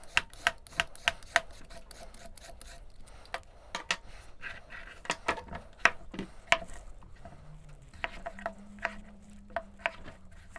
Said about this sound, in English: So next up is a cucumber. I'm going to peel and dice this guy.